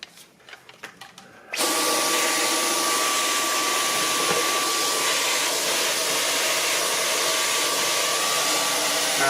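A Dyson V11 Animal cordless vacuum cleaner starts up after a few light knocks and then runs loud and steady on carpet with pine needles embedded in it, a constant high whine holding without a break.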